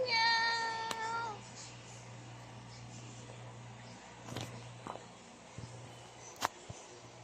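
A cat lets out one clear, near meow at the start, followed by quiet room noise with a few faint knocks and shuffles.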